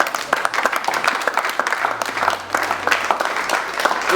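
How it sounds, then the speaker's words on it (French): An audience at a 25th wedding anniversary celebration applauds a group of couples, lively uneven clapping with distinct individual claps standing out over the crowd, near and fairly loud, with a faint tone underneath. "Est-ce que vous pouvez applaudir pour ces couples-là?"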